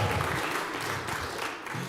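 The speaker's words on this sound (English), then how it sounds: "Round of applause." Brief burst of audience applause at a startup pitch event as a participant is called up, a short, dense wash of clapping that stays fairly even for a couple of seconds.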